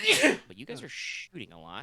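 A single sharp sneeze bursts out at the start, followed immediately by a person talking.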